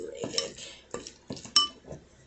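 Lemon tuna filling mixed in a bowl, a few distinct clinks and scrapes of a utensil against the bowl in an uneven rhythm, close and clear with no talking.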